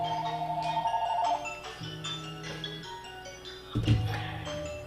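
A phone rings with an incoming spam call despite Do Not Disturb, its steady electronic ringtone tones repeating in a loop at moderate loudness with a brief thump partway through.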